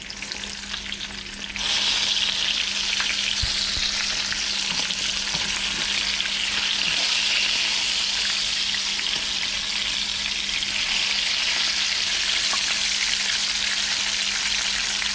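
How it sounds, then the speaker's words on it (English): Red ear sunfish fry in a pan outdoors, a loud, constant broadband sizzle that swells up after a brief quieter start and continues steadily with faint crackles and a low steady hum beneath. "Sizzle, sizzle."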